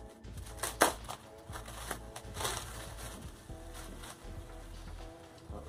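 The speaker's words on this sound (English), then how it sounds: "I'm super stoked to unwrap this. It looks like very good packaging." Crinkly packaging for a set of puzzle-hunt playing cards is torn and peeled open, with close rustling, crackling and a few sharp rips, fairly quiet and without talk.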